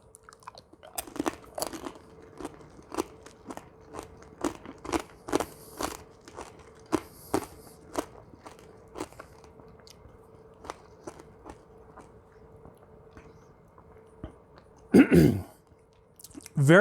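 Candied grape tanghulu with a glassy hardened sugar shell is bitten and chewed close up, giving a long run of sharp, crisp crunches in steady rhythm, with a louder crackling bite near the end.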